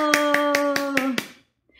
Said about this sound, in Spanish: Vamos a aplaudir por Jorge Meléndez Wright.